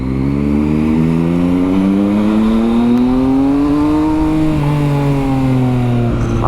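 A KTM 390 Duke or Yamaha MT-09 motorcycle engine revs loud and close, its pitch climbing and swelling steadily throughout, with no talking.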